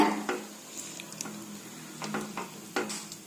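A spoon scrapes and knocks around inside a pot of kovakkai (ivy gourd) biryani rice with intermittent clinks and soft sizzling, moderately close, no voices.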